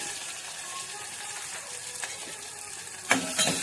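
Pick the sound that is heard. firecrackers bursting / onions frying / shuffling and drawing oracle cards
onions frying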